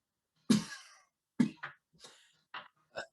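A person coughs in several sharp bursts, two heavy hacking coughs followed by smaller throat-clearing coughs, close and alone with no talking.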